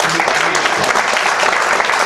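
An audience breaks into a big round of applause at a medical get-together, dense, steady clapping that fills the room throughout, with faint voices mixed in.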